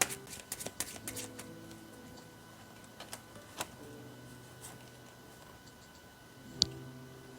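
Tarot cards being shuffled: a quick cluster of soft, close papery flicks at the start, then sparser clicks and one sharp snap near the end over a quiet room hum.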